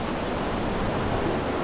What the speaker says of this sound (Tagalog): Grabe ang alon na yan.